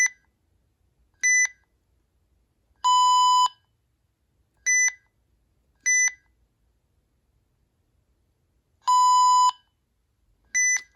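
A RadioShack 12-259 alarm clock from 2004 emits sharp, clean electronic button beeps in a quiet room, short single tones interspersed with two longer multi-tone beeps, spaced irregularly as buttons are pressed.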